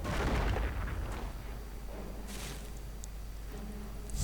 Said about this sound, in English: Incendiary rockets continue to land down there